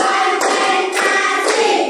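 Hand clapping in a classroom, sharp claps spaced about half a second apart, close and clear over a steady background hum.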